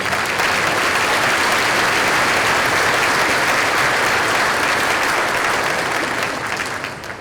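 Loud, dense applause from a large audience at a school district keynote event, continuous throughout and easing slightly near the end.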